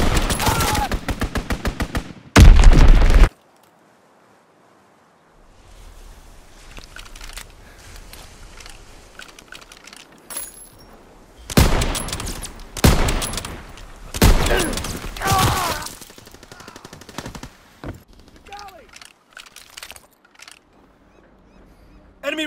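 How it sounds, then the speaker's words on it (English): Rapid bursts of automatic gunfire from a World War II video game strafing run, loud clustered volleys at the start and again midway, separated by quieter stretches of game ambience and brief spoken callouts. "Strafing run inbound!"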